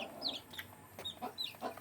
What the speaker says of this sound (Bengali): এটা হচ্ছে ভাই আমাদের দেশি মুরগির বাচ্চা